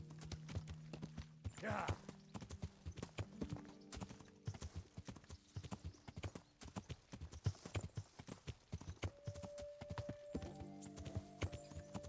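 Horse hooves clip-clop steadily in the video game Kingdom Come: Deliverance, a brisk rhythmic trot with a brief whinny near the start, under game music and occasional voice.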